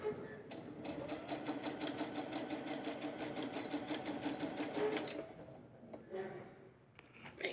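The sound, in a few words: sewing machine back stitching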